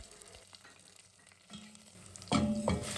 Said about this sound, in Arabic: وهنقطع البصله ونحمرها على النار